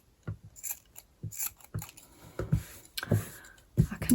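Scissors snip repeatedly while a stitched fabric vessel is being finished, giving sharp, close metallic cuts in an irregular rhythm, some single and some in quick pairs, against an otherwise quiet room.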